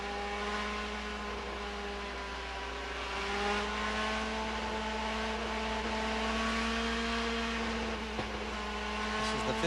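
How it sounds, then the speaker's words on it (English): An IndyCar engine revs at a race restart at Homestead Miami in 2005, captured onboard from a driver's helmet camera: a loud, continuous, tonal engine drone that holds steady and rises gradually, with no talk. "We'll listen to the revs come up, and we'll just listen to the sounds here as we restart racing competition at Homestead Miami"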